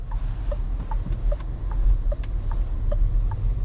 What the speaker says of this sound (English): nice indicator sound